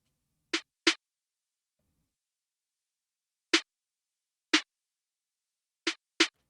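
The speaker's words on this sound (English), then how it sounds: "Let's get into this offset snare." Six sharp snare hits spaced unevenly, a quick pair, then two lone strikes, then another quick pair, with silence between them.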